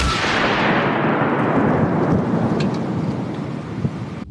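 Landmine explosion: a pyrotechnic delay inside the fuze fires a charge that throws lethal fragments out to about 200 metres. A sustained, loud, rumbling blast with broadband roar rolls on for several seconds and then cuts off abruptly, with no voices.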